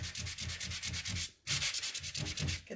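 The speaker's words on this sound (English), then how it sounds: "I've got a little bump right here I'm going to sand out." Sandpaper rubs by hand in quick rhythmic back-and-forth strokes over a painted nightstand, close and scratchy, with a short pause midway before the strokes resume.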